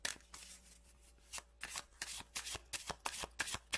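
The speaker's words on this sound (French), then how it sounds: "je vais tirer 5 cartes que je vais mélanger au oui et au non" Tarot cards are shuffled by hand, a rapid series of about a dozen crisp riffling swishes close to the microphone with no talking.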